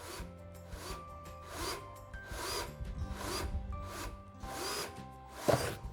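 A drill bores a hole through a drill guide set on a router circle-cutting jig, giving steady rhythmic grinding bursts about once a second over a low motor hum, close up with no talking.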